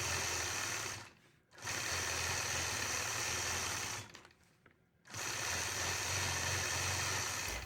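A sewing machine stitches in the ditch on a quilt block, a fast steady whirring hum in three runs separated by two brief pauses, close and alone.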